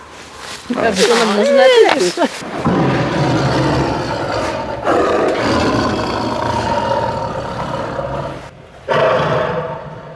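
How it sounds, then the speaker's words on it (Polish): A male Siberian tiger at a zoo lets out a loud, rough roar early on, then a steady broadband rumble continues while a voice speaks over it. "Samiec tygrysa syberyjskiego"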